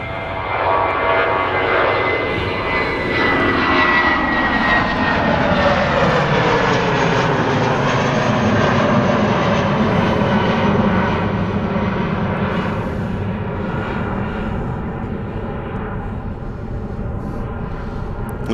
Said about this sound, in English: There goes British Airways flight 1389, which is the shuttle service down to London Heathrow.